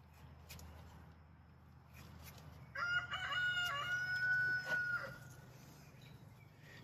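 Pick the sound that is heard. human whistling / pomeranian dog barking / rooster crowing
rooster crowing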